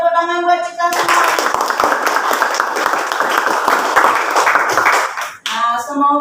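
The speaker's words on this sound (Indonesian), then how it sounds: "Oke, tepuk tangan buat kita semua." A classroom group claps hands together in a dense, sustained burst lasting several seconds, with children's voices speaking and chanting before and after it.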